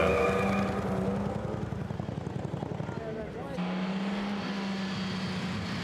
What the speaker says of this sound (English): radial engine valve gear hammering away, so masses of power